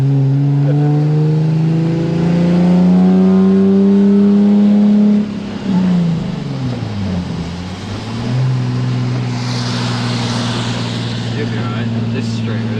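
Nissan 370Z fitted with a Hall Built Performance exhaust being revved hard, engine notes climbing and holding, then dropping and rising again through a brief dip, loud and close with a raspy rising tone.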